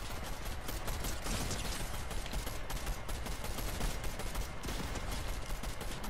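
Rapid video-game gunfire from Fortnite, a dense, continuous barrage of shots at steady loudness across the whole stretch, with no speech.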